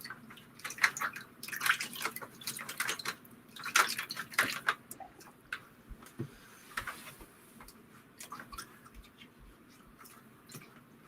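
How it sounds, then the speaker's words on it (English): Stencils soaking in a large tray of water for gel printing make soft, scattered splashes and drips, with small bursts of sloshing early on that settle into sparse drips and light ticks. "I'm just going to soak the stencils a bit because they sort of sit on top of the water if you're not careful."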